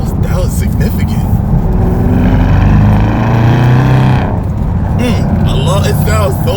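A Porsche Panamera turbo engine with a modified exhaust rumbles loudly and steadily, its deep drone swelling in the middle, while people talk excitedly over it throughout.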